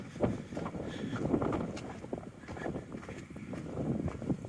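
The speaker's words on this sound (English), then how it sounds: "the wind is picking up" Wind picking up at a trail campsite on the Pacific Crest Trail near Warner Springs, a steady, rumbling buffet of gusts against the microphone, rising and falling continuously up close with no talking.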